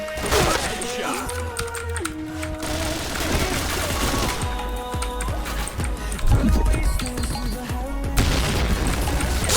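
Rapid automatic gunfire and booming explosions from the Point Blank online shooter game, with bursts from rifles such as the AUG and Kriss, dense and loud throughout with a player's voice over the action.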